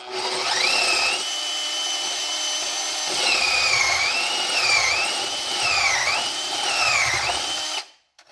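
Steady high-pitched whine of a drill running a sanding bit against wood, its pitch wavering as pressure shifts, close and continuous until it stops.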